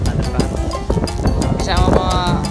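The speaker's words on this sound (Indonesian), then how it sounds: "Di sini anginnya besar sekali coy." Strong outdoor wind buffets the microphone in gusty, rumbling bursts at a tourist spot in Yangmei, Taiwan, loud and close, with a person speaking over it.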